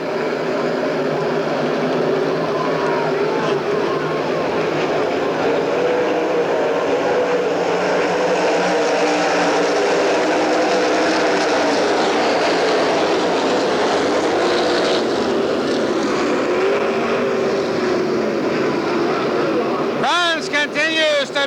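360 sprint cars racing at the Knoxville Nationals dirt track, a continuous loud engine roar swelling and fading as the pack passes, steady throughout with a track announcer talking over it.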